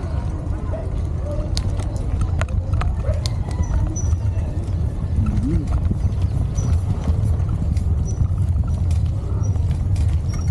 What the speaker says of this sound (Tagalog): Uy, kabayo. Kabayo, horse.